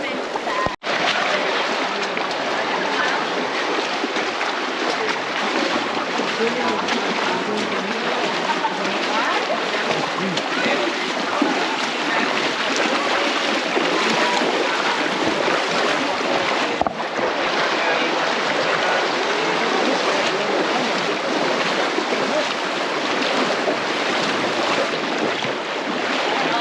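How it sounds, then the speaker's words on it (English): Waterfall in the Zion Narrows, a continuous broadband rush of falling water that stays loud and steady throughout, with faint wind on the microphone and brief talk. "There's a waterfall right there."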